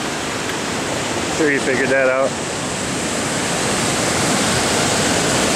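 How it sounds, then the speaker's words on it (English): A cascading waterfall in a gorge along a trail near Lake Louise, a steady, loud rushing roar filling the whole scene, with someone speaking briefly over it. "Nice cascading waterfall."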